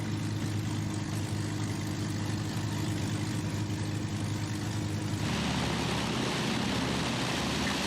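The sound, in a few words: Avro Lancaster engines idling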